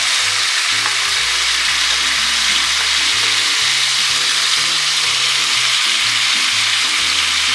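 Marinated ribeye steaks sizzling on a hot grill, a loud steady hiss of searing meat with low rumbling underneath, no talking.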